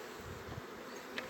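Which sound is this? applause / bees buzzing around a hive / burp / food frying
bees buzzing around a hive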